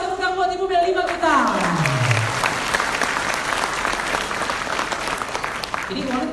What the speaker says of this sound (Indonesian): Tepuk tangan buat Ibu Meli 5 juta.